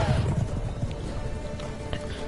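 Horse hooves clip-clop in The Witcher 3 video game, a quick run of galloping thuds close by and loud at first, then continuing more loosely under a steady wash of game sound.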